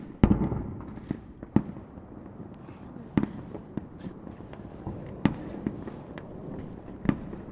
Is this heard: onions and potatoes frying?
no